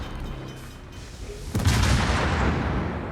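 The Cataluña warship's guns fire a broadside in a naval video game, a sudden heavy boom halfway through followed by a sustained roaring rumble, preceded by quieter ambient battle noise.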